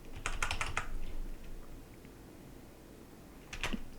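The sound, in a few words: shuffling playing cards back into a deck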